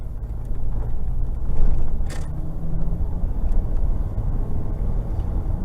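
Ford Econoline E350 15-passenger van with a V10, an old body-on-frame design, accelerating onto a freeway: a steady loud low engine and road rumble heard from inside the cab, with no talk.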